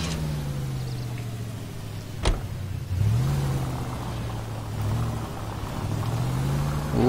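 A car engine in the video game L.A. Noire hums steadily at close range, with a brief sharp click partway through and a mild rise in pitch as it revs slightly.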